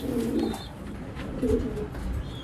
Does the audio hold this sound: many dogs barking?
no